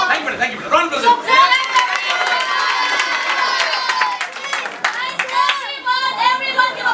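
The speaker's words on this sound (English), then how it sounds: "Round of applause." A lively young crowd in an English-language classroom role-play session bursts into applause with cheering, whooping and excited shouts, many voices layered over continuous clapping that stays loud and close throughout.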